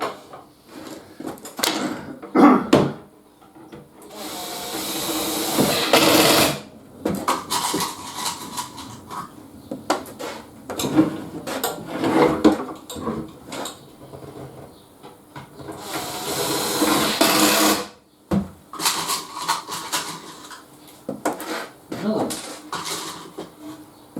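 Screws are driven in with a power driver during a work van fitout, in two long whirring bursts separated by clattering handling noises, with a person talking in between.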